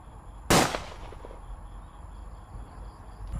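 A single sharp, loud bang rings out, followed by a short decaying echo, then quiet background.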